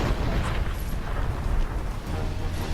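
Cannon fire booms in Dungeon Siege 3, heavy overlapping explosions and rumbling blasts that fill the whole stretch loudly with no talking.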